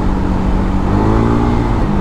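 Kymco KRV Moto 180 scooter engine held on the throttle while riding, a loud steady motor drone that swells slightly, with road and traffic noise around it and no talk.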